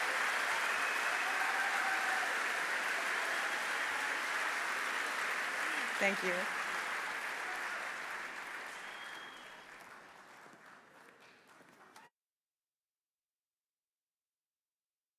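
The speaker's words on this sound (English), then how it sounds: "please give another round of applause to the young environmental leaders who are here" Audience applause fills an award ceremony for environmental leaders, steady and dense for about ten seconds before thinning out and stopping, with a brief spoken thanks partway through.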